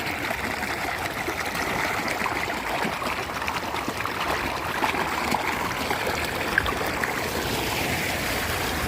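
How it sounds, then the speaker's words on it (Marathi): Water gurgles and flows at a well beside farmland in Andhapuri, Beed district, a steady, close rushing babble that carries on unbroken, with no one talking. "अशा प्रकारची विहीर आणि हे खळखळणारं पाणी"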